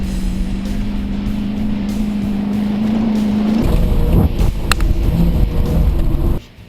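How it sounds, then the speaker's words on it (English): Chevy or Ford police car on a muddy, very soft dirt track, engine droning steadily and loudly, then a rougher, choppier roar as it labors and bogs in the soft ground before cutting off near the end. "I hear the engine bogging down through the really soft stuff"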